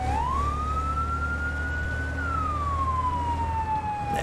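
A fire engine siren in the Firefighting Simulator: The Squad video game wails in a single slow rising and falling sweep over a low steady engine rumble, loud and close.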